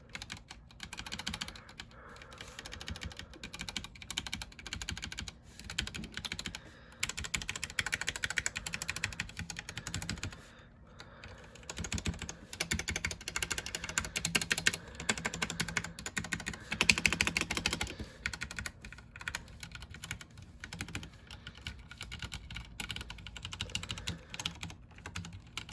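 Continuous typing on a mechanical keyboard with Cherry MX Black switches and cheap PBT keycaps: a dense, even patter of keystrokes, close and steady, with brief lulls.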